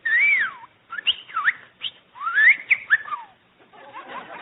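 A talking bird on a live radio comedy show whistles a series of clear, bright, swooping melodic phrases, close and alone with short pauses between them.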